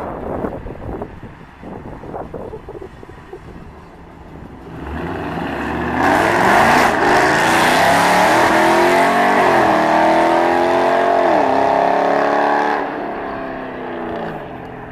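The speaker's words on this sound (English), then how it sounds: "this car is ridiculously loud." A loud car engine roars in, revving and rising in pitch as it passes close by, then fades off with wind buffeting the microphone.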